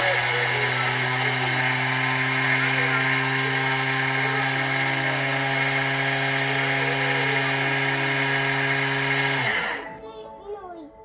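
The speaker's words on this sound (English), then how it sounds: "Now it's going to get a bit noisy as we turn it around because we're going to grate our cheese." A kitchen cooking machine grates parmesan cheese with a loud, steady motorized whine and grinding rasp that holds for about nine seconds, then winds down and stops abruptly.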